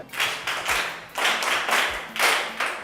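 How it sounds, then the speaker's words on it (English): Schoolchildren at a school in Cameroon clapping together in a few loose bursts, a group of hands patting close by with brief dips between rounds. "Clap for them."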